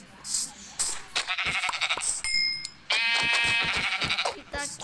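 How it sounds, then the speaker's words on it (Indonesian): Sheep bleat repeatedly in a Minecraft-style survival game played with friends, the harmonic bleats stacking close and loud alongside game sound effects, with a person talking over them. "Nah, banyak domba."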